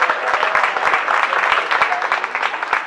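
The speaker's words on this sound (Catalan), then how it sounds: "Un aplaudiment per a ell." A crowd at a religious festival applauds the festival's chief steward, with a dense patter of many hands clapping at moderate loudness and individual sharp claps standing out through the wash.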